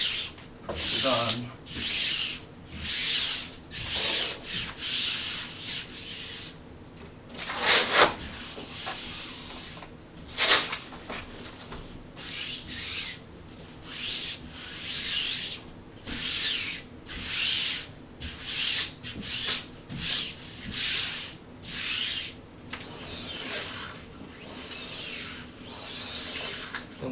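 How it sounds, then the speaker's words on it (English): A soft felt squeegee is rubbed repeatedly over a peel-and-stick wall mural to smooth out bubbles, giving steady rhythmic swishing and scraping strokes, close and fairly loud, with no talking. "just go over with a soft felt squeegee or something, and just make sure got all the bubbles out."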